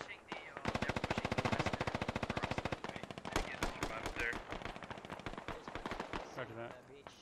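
Rapid rifle and machine-gun fire from a military video game battle, a sustained automatic burst followed by scattered single shots and bursts from several guns, loud and continuous throughout.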